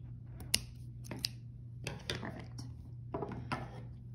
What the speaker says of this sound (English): take your scissors, or you could use just like wire cutters, but scissors, and cut down the middle